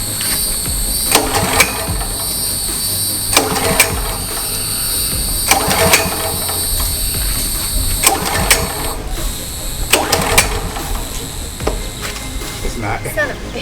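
A small engine cranks over repeatedly after a spark plug replacement, a series of loud mechanical pull-start bursts spaced across a steady whine and hum, failing to catch.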